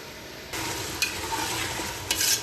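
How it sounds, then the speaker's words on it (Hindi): Meat fries in garlic and ginger in a home kitchen, sizzling steadily while it is stirred, with a louder burst of frying partway through and a few scraping stirs. "इसमें मैंने अच्छी तरह से लहसुन अदरक में मैंने गोश्त को भून लिया है"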